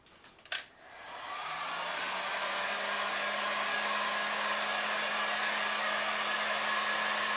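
A hair dryer or heat gun, used to warm a French-polished guitar finish, clicks on and ramps up into a steady close whooshing blow with a constant motor hum, running alone after a few brief handling knocks.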